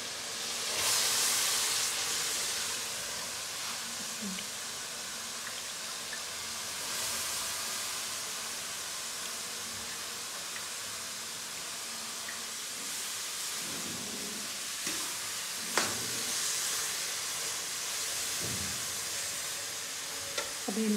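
Tempering spices (tadka) in hot oil during home cooking in Pakistan, a steady, soft sizzle and hiss that runs on without pause, with a few faint clinks of utensils.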